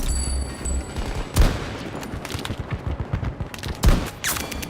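Gunfire in the video game Battlefield 2042, two loud heavy shots with booming low thumps separated by rapid, lighter bursts of fire, close and punchy with little talk over it.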